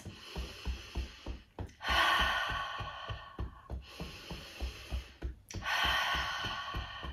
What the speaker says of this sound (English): inhaling through your nose, exhaling through your mouth